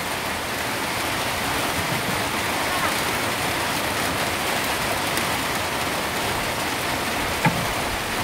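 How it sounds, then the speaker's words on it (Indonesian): Heavy rain pours down in a dense, loud, continuous hiss with no break, steady throughout, with one small knock near the end. "Siap, udah hujan."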